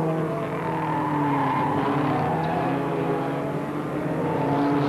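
Ford Escort Mexico saloon cars racing at Brands Hatch, engines droning loud and steady throughout with a broad roar that rises slightly near the end.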